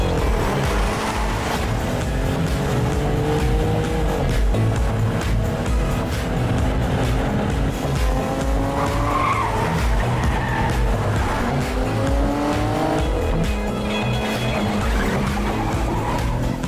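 A car speeding off and skidding in a Bollywood action film, a loud, continuous engine roar with rising revs and squealing tires, driven over a busy soundtrack for the full stretch.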